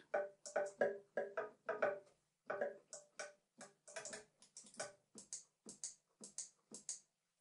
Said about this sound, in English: So that's a pen being tapped on a desk.